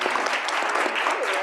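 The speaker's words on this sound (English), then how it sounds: "I want, please, everyone to applaud this wonderful group of people who are so inspiring" Dense applause from a conference audience for a panel on Indigenous research, steady, close clapping throughout with faint voices mixed in.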